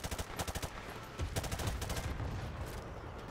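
Rapid automatic gunfire in the video game Modern Warfare Remastered, a campaign mission, with a quick string of distinct shots followed by a denser, sustained burst of firing, loud and close.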